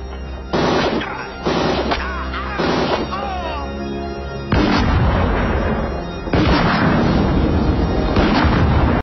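Heavy gunfire and booming shots from a 1987 action film, fired in loud repeated bursts over a musical score.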